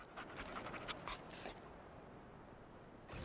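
A dog panting in the video game Remnant 2, rapid steady breathy huffs at close range, continuing over a few seconds against a constant game background hiss.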